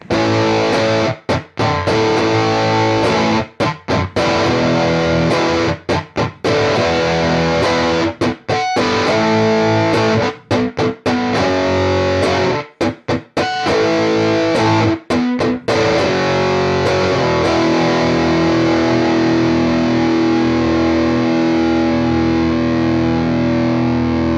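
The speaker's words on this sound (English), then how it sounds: "This is a fuzz pedal, the Walrus Audio Contraband Fuzz" Electric guitar played through a Walrus Audio Contraband Fuzz pedal gives thick, heavily distorted chords in choppy stop-start bursts, then a long sputtering note sustains and slowly fades, loud and up close.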